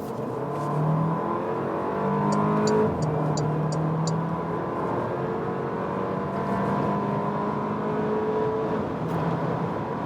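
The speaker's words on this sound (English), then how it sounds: "on the motorway part where we can really accelerate it out and see, is this still, performance-wise, a real Porsche?" A Porsche Macan SUV accelerates hard on a motorway from 50 to 150 km/h, its engine note rising steadily through several gear changes under constant road and wind roar, heard from inside the cabin with no talking.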